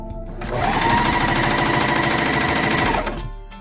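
A coverstitch sewing machine, a Brother 2340CV or Janome CoverPro 1000CPX, runs at steady speed for about two and a half seconds, a loud, close, rapid mechanical whirr that spins up and stops cleanly, with no talk.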